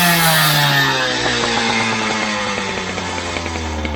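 A scooter engine fitted with a Malossi kit revs loud and close, its high buzzing tone slowly sinking as it struggles to drop back to idle, with no speech over it.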